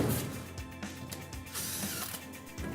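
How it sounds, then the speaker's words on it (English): A Malco hole cutter grinds and ratchets through sheet metal air duct in an air duct cleaning job, with loud, uneven mechanical cutting bursts and clicks, close up and without speech. "you can use a Malco hole cutter like we're using here"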